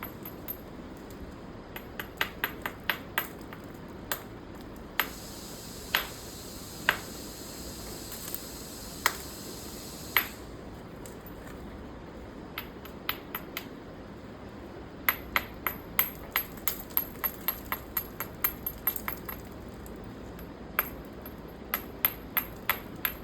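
Flint knapping with a soft hammer while shaping a neolithic axe preform, heard as many sharp, close clicks and taps in irregular clusters over quiet background.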